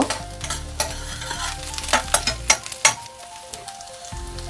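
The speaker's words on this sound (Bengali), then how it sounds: "রসুন আর কাঁচা লঙ্কা অল্প ভেজে নেব" Garlic and green chilies frying in white oil, a steady close sizzle broken by several sharp scrapes and knocks of a spatula stirring in the pan, with a low hum underneath.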